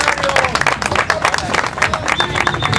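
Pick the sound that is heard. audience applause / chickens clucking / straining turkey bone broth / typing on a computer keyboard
audience applause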